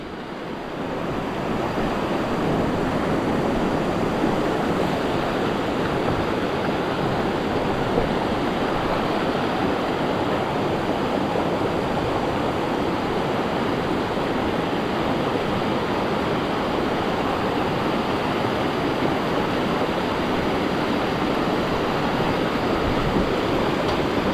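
Floodwater rushes through a swollen river, a loud, steady roar that continues unbroken throughout with no voices heard.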